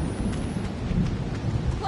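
Thunderstorm ambience from the horror video game Outlast 2: a steady low rumble of thunder with dense rain patter, moderately loud and continuous throughout, with no speech over it.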